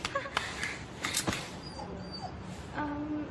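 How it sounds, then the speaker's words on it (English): A dog in an anime film gives a few short yips and whimpers at close range, broken up by scuffling and sharp clatters, with brief high tones sounding near the end. "Damn dog! I'll teach you how to bite!"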